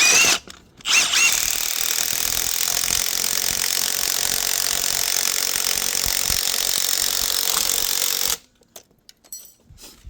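Power tool tightening the rear shock bolt on an Infiniti G37, a loud steady whirring drive running for about eight seconds before cutting off, followed by faint clicks.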